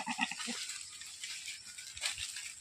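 A goat on a farm, one showing signs of coming into heat, bleats in a short series of quick calls followed by a longer cry, fairly faint with light background noise.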